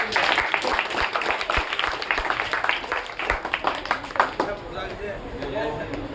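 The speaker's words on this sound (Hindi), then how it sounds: "ताली थोड़ी बजा दो।" An audience at a Teacher's Day school program claps in a steady burst that thins out toward the end, with voices mixed in.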